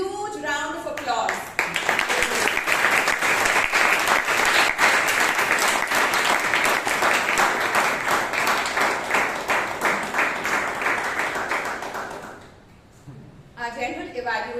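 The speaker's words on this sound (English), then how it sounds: "So let's shower them with a huge round of applause." A Toastmasters club meeting audience bursts into sustained clapping that holds strong for about ten seconds, then fades out, with a voice speaking briefly before and after.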